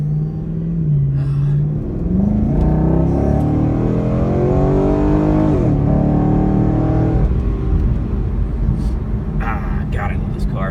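A Chevy SS accelerating on the road, its engine rumble rising and falling steadily throughout from inside the car, with no voices heard.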